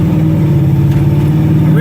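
A 1963 Chevy C-10 shortbox two-wheel-drive pickup with a rebuilt engine drones steadily while driving, a loud, even low hum heard from inside the cab.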